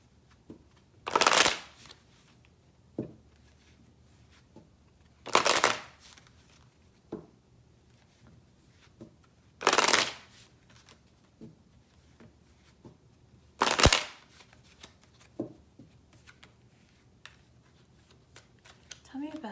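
Kipper card deck being shuffled at a tarot-style reading table, four distinct riffle bursts spaced several seconds apart, close and crisp, with faint handling sounds between them.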